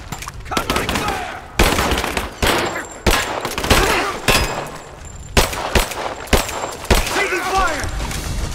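Bursts of gunfire from a firefight in Rise of the Tomb Raider, loud sharp volleys repeating every second or so with shouting voices mixed in between the shots.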